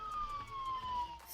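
A police car siren sounds during a response to a shooting at a suburban mall, a single steady wailing tone gliding slowly downward, fairly faint and distant over low street rumble.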